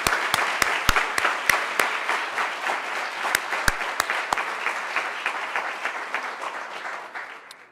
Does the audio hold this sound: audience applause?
yes